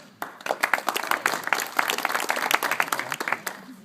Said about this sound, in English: Sure, you guys can applaud.